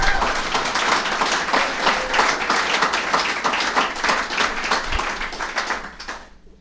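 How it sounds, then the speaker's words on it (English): Steady, dense applause from an audience at a beach-side celebration-of-life gathering, thanking the club members who organized it; sustained clapping for about six seconds before fading out. "And we can do that with applause."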